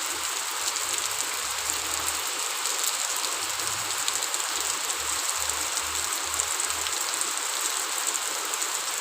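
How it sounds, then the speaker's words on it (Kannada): Heavy rain falls steadily outdoors in a village, a constant broadband hiss with a low rumbling hum pulsing underneath throughout. "ಈ ಮಳೆ ಜೋರಾಗ್ತೈತಿ"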